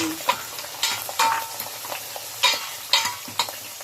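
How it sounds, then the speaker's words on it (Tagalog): Mussels hit a pan of sautéed onion and garlic, with a close, lively sizzle and repeated sharp scraping and clattering strokes as the shells are stirred, no speech. "pag nagisa na natin yung ating sibuyas at saka bawang, ilagay natin tong ating itong ating tahong"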